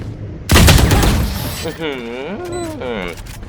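Gunfire from a weapon in the Valorant video game: a loud, dense burst of rapid shots right up front, fading into a trailing rumble while a voice talks over the end.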